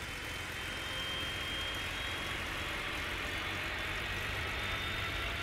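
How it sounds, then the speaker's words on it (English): An airliner engine in the Tower! Simulator 3 airport game at Raleigh-Durham International Airport spools up with a steady, rising jet roar and broad hiss, heard alone and continuous throughout. "See if we hear the engine spool up at some point."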